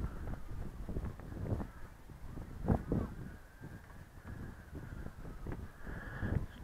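Wind gusts at 10 to 15 mph buffet a microphone outdoors in Richmond Park at night, making low, uneven rumbling bursts that come and go over a faint background.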